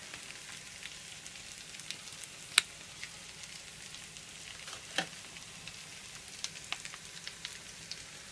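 Potato latkes fry in a pan with a faint, steady sizzle, broken by a few sparse crackles and pops, with no one talking.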